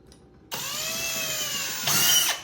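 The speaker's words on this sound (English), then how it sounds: "We're going to drill a little hole on all these." A power drill bores a small hole into a wooden stick for a DIY trash-can worm bin, starting abruptly and whining steadily for about two seconds, rising slightly in pitch near the end before it stops.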